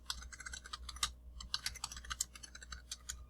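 Close, rapid clicking of a computer keyboard as a quiz title is typed, in uneven bursts of keystrokes with a short pause early on.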